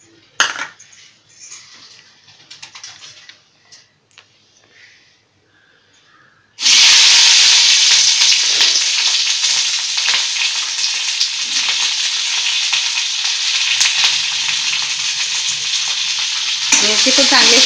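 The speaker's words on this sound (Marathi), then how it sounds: "मिरचीसाठी थोडं किंचित तेल टाकायचं. ही मिरची भाजली पाहिजे ना आपली चांगली." Green chillies roast in a little oil in a pan for karela bean chutney: a quiet start with faint clinks, then a loud, steady sizzle takes over from about six seconds and runs continuously to the end, with no talking.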